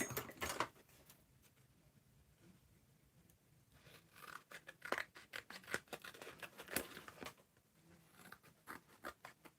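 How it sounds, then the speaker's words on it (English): Scissors snip through paper while a junk journal is being made, a close, quiet run of crisp irregular cuts and rustles with no talking. "Scissors."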